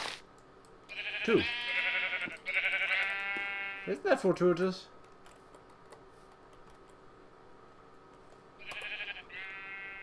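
Sheep in the Minecraft video game bleat several times in short, clear calls while someone talks casually over the game audio.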